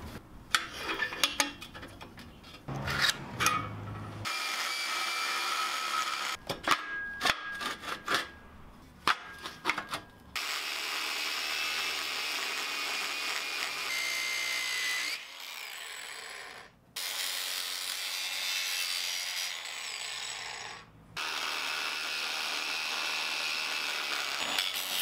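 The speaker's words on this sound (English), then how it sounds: "To get this to close without that gap, I'm going to notch the hinge into the tube." A metal rocket stove tube is notched by hand to seat a hinge, producing bursts of close rasping, filing and sawing scrapes separated by short pauses, with no talk.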